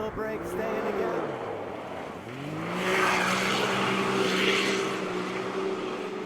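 A Can-Am Maverick X3 DS Turbo R side-by-side on a rally stage, its engine note falling then climbing again as it accelerates hard, with gravel and wheelspin noise mixed in and a voice talking over it.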